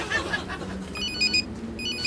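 A mobile phone rings on a train, its bright electronic ringtone tones repeating in short bursts over a steady rumbling background.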